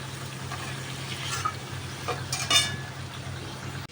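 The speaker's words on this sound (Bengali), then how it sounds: "সামান্য ভেজে নেব" Prawns frying gently in a pan over lowered gas, a steady soft sizzle with low hum underneath, faint crackles rising briefly now and then.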